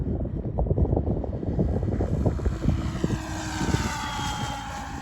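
A Blade 700 Fusion RC helicopter flies at full throttle, its loud, steady rotor and motor whine carrying with wind buffeting the microphone outdoors in cold conditions, with no talk.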